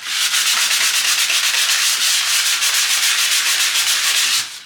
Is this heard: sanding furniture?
yes